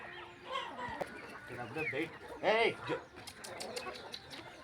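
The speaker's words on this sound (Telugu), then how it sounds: "ఇవి కేవలము మన బయలుకి పోయి మేసే కోళ్ళు అనమాట ఇవన్నీ" Free-range hens cluck and squawk close by in a farmyard, several birds calling in irregular bursts with one louder squawk midway, while a person talks over them.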